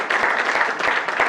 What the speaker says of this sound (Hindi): एक बार इनके सम्मान में भी जोरदार तालियां